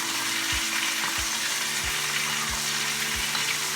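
Hot fat with garlic ladled over a T-bone steak frying in a pan: a constant loud sizzle with regular soft scraping strokes of the spoon about every half second, no voices.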